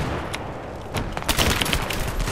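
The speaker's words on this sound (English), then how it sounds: "Oh boy, 2 shotguns back on me." Video game firefight with two shotguns, a few loud blasts followed by a dense, rapid burst of gunfire close by.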